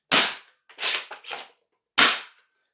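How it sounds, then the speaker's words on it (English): A Foam Knight XC foam dart blaster is primed and fired at close range. Four sharp, loud pops come in quick succession, followed by a pause and then one more. "all you do is you prime, insert a magazine, and you shoot"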